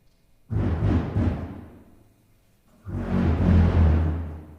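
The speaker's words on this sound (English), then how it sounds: "Can we do a quick lion's roar demo?" Two loud, rough groaning roars from a lion's roar friction drum, made by pulling a hand along a string through a bass drum, each swelling and then fading, separated by a short pause.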